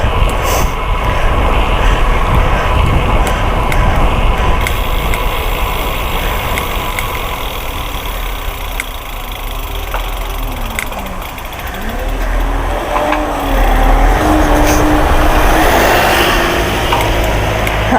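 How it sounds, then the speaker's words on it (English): A bus bound for Knaresborough rumbles past on a road, its engine loud and close, rising and fading with a steady low drone and some whining tones, no talk. "That bus is going to Knaresborough."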